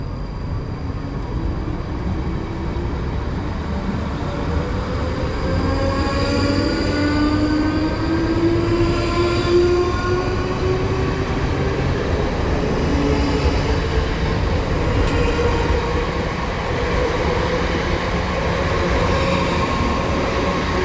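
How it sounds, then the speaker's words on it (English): Class 458 electric train pulling out of Wraysbury station toward London Waterloo, a steady rolling rumble with rising motor whine and faint wheel squeal that holds close and loud throughout, no voices. "the departing route now is going to be 458 heading to London Waterloo"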